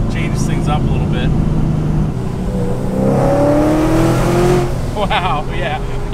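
A boosted Chevrolet Camaro accelerates hard, its engine note climbing in pitch as it keeps pulling, loud and close, with people talking over the roar.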